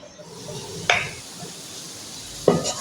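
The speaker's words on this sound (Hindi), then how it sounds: "अब हम प्याज फ्राई कर लें" Onions fry in a pan for a minced-meat and bitter-gourd dish, giving a soft, steady sizzle. Two sharp utensil clinks against the pan stand out above it.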